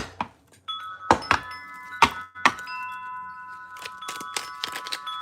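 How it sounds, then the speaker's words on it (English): Small metal bells or jingling ornaments worn on a person clink and ring in scattered bursts, bright sustained tones ringing out after several sharp hits, close and fairly loud with no talking. "Everything on me sounds like bells ringing."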